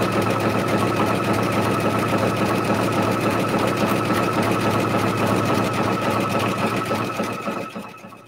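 A sewing machine fitted with a circular attachment stitches steadily, a fast, even mechanical chatter heard close and alone, slowing to a stop at the very end.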